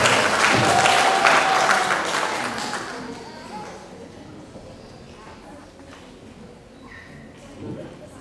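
An audience at a graduation and oath ceremony of a post-secondary nursing school in Pașcani, Romania, applauds a graduate, loud steady clapping for about three seconds that then fades into a quieter room with scattered sounds.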